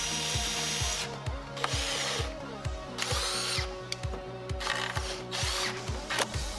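A power drill drives 1 5/8-inch screws into cedar deck boards for a planter, its motor whirring in short repeated bursts, each pull of the trigger ramping up and cutting off in a steady close rhythm.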